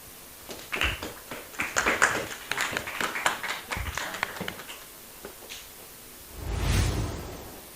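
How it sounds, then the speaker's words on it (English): A small press-conference crowd claps for both players after a women's world chess championship game, scattered patter of hands with taps and rustles, then a brief louder swell near the end. "a well-deserved round of applause for both the players"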